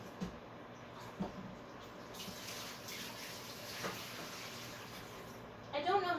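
Water from a removed reservoir pours into a kitchen sink as a steady, hissy splash that swells after the first couple of seconds and carries on quietly, with a clatter near the end.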